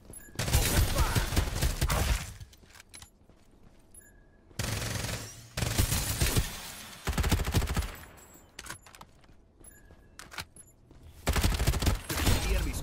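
Gunfire in the video game Farlight 84: loud bursts of rapid automatic fire in several separate volleys, with short quieter gaps and faint game sounds between them, no talk.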